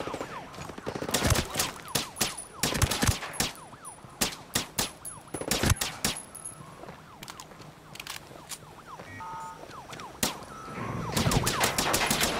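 In Ghost Recon Breakpoint, gunfire aimed at the player crackles in rapid bursts and single sharp shots, some close and loud, others fainter, with a siren-like tone in the background and a dense flurry near the end.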